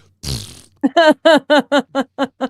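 A voice imitates a cartoonish dinosaur fart: a short breathy blast followed by a rhythmic run of eight buzzing, tonal lip-trill pulses, loud and close, with no other talk.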